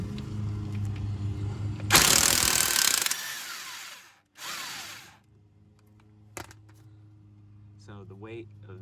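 Ratchet with an 18mm socket loosening the upper control arm bolt on a Dodge Charger-family front suspension, with a loud burst of broadband tool noise and a second shorter burst, then quieter handling clatter and brief talk.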